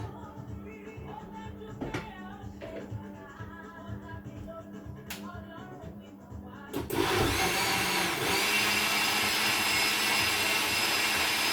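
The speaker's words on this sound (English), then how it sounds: "So on my blender here, I'll put it to number 5 because I want it to be quite smooth." Kitchen blender switched on to a high speed setting to blend ingredients smooth, starting abruptly after a stretch of quiet room sound and running as a loud, steady whir to the end.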